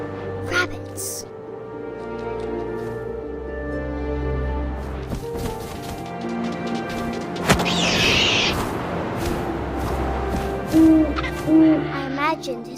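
An owl's hoots in What Remains of Edith Finch sound in short soft pairs late in the scene, over low wind and ambient game music, with a narrator speaking throughout.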